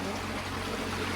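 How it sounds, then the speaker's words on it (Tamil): Water from the Iranamadu tank in Kilinochchi flows in a steady broadband rush, close and continuous, with no voices over it. "இரண்டமட குளத்து தண்ணி எப்படி பாஞ்சு கொண்டு கொண்டு பாருங்க"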